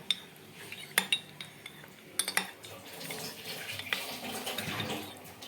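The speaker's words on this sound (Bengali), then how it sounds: "এবারে জল দিয়ে দেবো, জল এবার ভালো করে গুলে নেবো।" Water is added to a bowl and stirred into an arrowroot mix for chilli chicken. A spoon clinks sharply against the bowl in a few bursts, then a softer, continuous swirl of liquid follows, with no voices.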